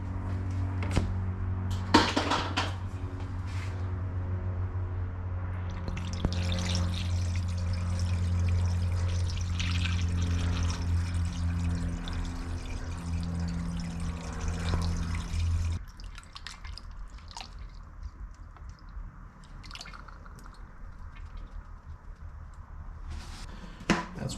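Blue coolant glugs from a gallon jug into the cooling system of a 2006 Nissan Sentra, a steady close pour lasting about fifteen seconds before it stops, followed by light drips and small clinks.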